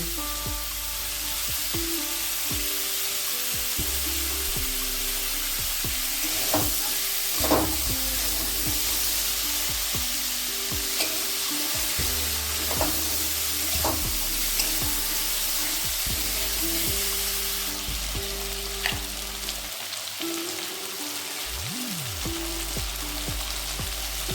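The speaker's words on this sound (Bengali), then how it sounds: "লবণ হলুদটাকে আলুর সঙ্গে মিশিয়ে নেব আঁচটা একটু কমিয়ে দেবো" Potatoes sizzling loudly in a frying pan as salt and turmeric are stirred through, a continuous close hiss broken by occasional scraping stirs and clinks.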